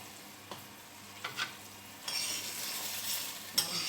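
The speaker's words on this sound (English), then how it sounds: "I'm gently stirring this, give it a taste." A sweet and savory sauce is stirred slowly in a pan, giving a soft, quiet sizzle with a few light scrapes and clicks of the utensil; the sizzle swells slightly partway through.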